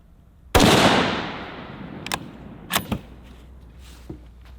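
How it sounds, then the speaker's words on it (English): A single loud rifle shot fired at a bullseye target on a shooting range, a sharp crack with a long fading echo, followed by a few faint clicks and knocks. "I'm gonna shoot one more."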